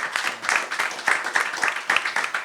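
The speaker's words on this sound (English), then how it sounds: "another round of applause for Nell" An audience at the Houston Music City Forum 2024 claps steadily, a dense patter of many hands that keeps an even loudness throughout.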